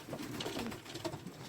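Young pigeons in an allotment loft coo with low, soft, repeated calls, several birds overlapping steadily through the whole moment at close range, with no voices.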